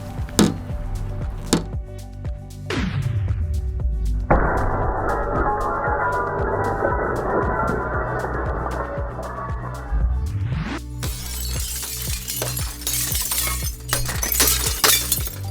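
Tempered glass fitted with security film is struck repeatedly, giving a series of sharp impacts, a long crackling shatter and scattered knocks and crunches afterward, loud and close.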